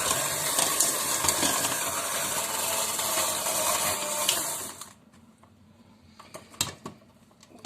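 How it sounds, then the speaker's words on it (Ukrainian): An electric hand mixer whips vegetable oil in a bowl, a loud steady whirring buzz for about five seconds that cuts off, followed by a few quiet knocks and clatters. "відправляю рослинну олію. І буду міксером збивати."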